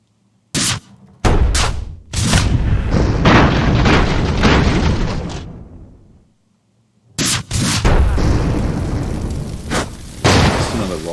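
Rocket explosions in the airship battle game Airships: Conquer the Skies, a run of loud booming blasts and bursts packed densely together, dropping out briefly to silence before another volley of heavy explosions resumes.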